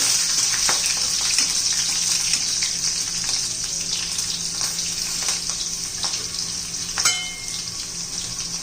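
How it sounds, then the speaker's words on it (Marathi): Red and green chilies sauté in a hot pan for a chutney, giving a steady, close hiss of frying with faint crackles and a few stirring clicks throughout, and no voices. "लाल मिरची घालायची आहे. हिरव्या मिरच्या घालायच्या आहेत. छान असं परतून घ्यायचं."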